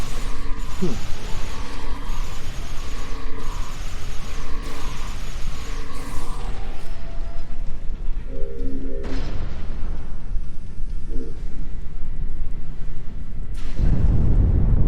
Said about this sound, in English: That was an explosion of sufficient magnitude to cause a breach.